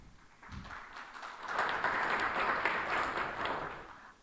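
Soft applause at a corporate analyst meeting honoring company milestones, swelling from a few claps into a fuller, moderately distant round of clapping.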